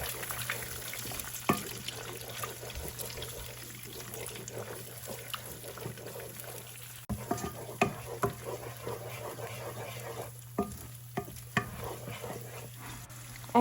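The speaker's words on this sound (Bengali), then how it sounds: "ডিমগুলোকে ভালো করে ভেজে নেব।" Two eggs fry in a pan for Bangladeshi-style Cocola noodles, giving a soft, steady sizzle with occasional scraping and stirring knocks, close up and fairly quiet.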